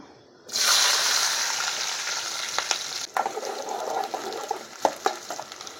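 Onions and chillies hit hot oil in a village-style prawn curry pan, erupting into a loud, bright sizzle that fades slowly, with a few stirring clinks and pops later on.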